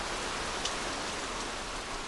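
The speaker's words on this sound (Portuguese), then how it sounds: "Quando a chuva chega na Nova Guiné, nada nem ninguém escapa do dilúvio." Heavy tropical rain pours down steadily in New Guinea, a dense, even hiss of downpour on surfaces with no voices.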